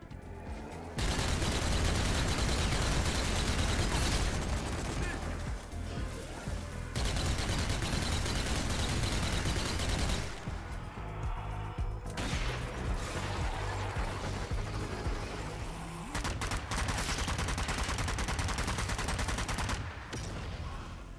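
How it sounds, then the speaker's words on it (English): Dense, sustained gunfire from the zombie shooter game Zombie Army 4: Dead War, rapid machine-gun bursts blending into a near-continuous roar with brief pauses, loud and dominant. "Aiming and firing your weapons feels good."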